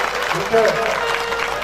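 Applause from a crowd at a Hanuman temple consecration festival in Kachibaroda rolls on under someone speaking over a microphone, brief and fairly steady.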